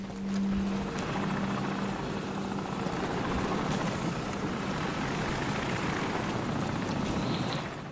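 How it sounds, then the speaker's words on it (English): Steady, continuous rotor and engine roar of a helicopter in Call of Duty 4: Modern Warfare, loud and close, droning without pause. "There is no reason why a helicopter would shake the building"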